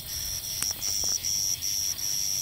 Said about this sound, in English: The cicada.